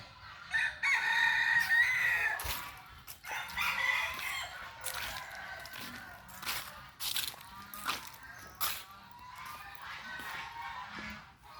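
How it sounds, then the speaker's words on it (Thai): Several pheasants call in a busy outdoor chorus at a Thai temple in Nong Bua Lamphu, harsh crowing-like cries repeating over steady background noise, fairly close and moderately loud. "นี่กลุ่มไก่ฟ้า"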